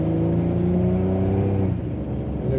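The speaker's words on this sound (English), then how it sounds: "know you heard that Impala pick up." A Chevrolet Impala engine up close, holding a steady hum and then climbing in pitch as it accelerates.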